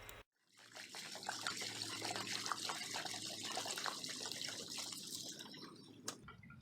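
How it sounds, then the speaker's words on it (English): Water repellent pours outdoors into a 2-gallon garden sprayer standing on soil, a steady, close liquid gush that runs for about six seconds and then stops abruptly. "I'm going to put 2 gallon of water repellent into the garden sprayer."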